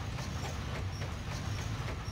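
A train riding by in the Sonic Adventure 2 video game, a steady rumbling roll with faint rhythmic clacking of wheels throughout, heard alone.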